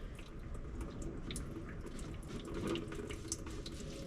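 Diesel fuel drains from the filter housing of a 2017 Duramax with dual tanks into a bucket set on gravel, making a steady, close trickling pour that runs without a break.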